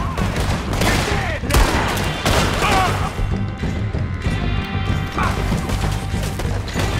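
Repeated gunshots and crashing impacts from Red Dead Redemption 2 pound through a busy in-game fight, loud and irregular, with occasional voices beneath.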